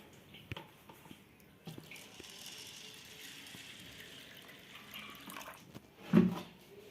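Faint, steady running water trickling into a container of black gram lentils to soak them, ending in a brief louder splash near the end.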